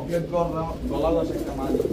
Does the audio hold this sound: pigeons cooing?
yes